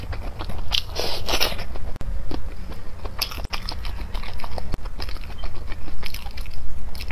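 Close, loud crunching and biting as crunchy cartilage sausage is chewed, a continuous stream of crisp cracks and squelchy chews at close range, with no talking.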